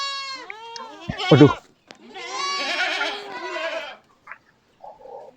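Goats in a pen give several loud, wavering bleats close by, one short cry, then a longer drawn-out call, and a person briefly speaks between them.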